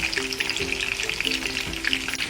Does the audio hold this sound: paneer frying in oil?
yes